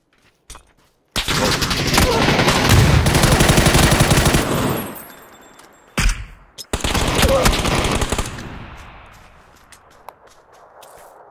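A close frag grenade blast in a video game erupts into a loud, sustained roar of explosion and rapid gunfire, cuts out briefly, then resumes with another burst before fading into quieter rumble and scattered shots.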